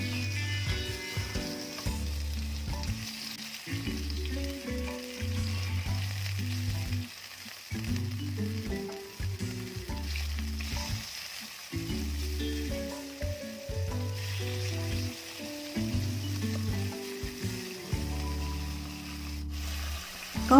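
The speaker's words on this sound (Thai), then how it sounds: "พอน้ำมันร้อนแล้ว ก็ใส่หมูลงไปทีละชิ้น" Pork slices sizzle in hot oil in a frying pan for ginger pork shogayaki, a loud, steady frying hiss with intermittent lower clatter and stirring, and no talking.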